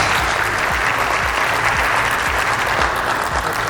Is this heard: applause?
yes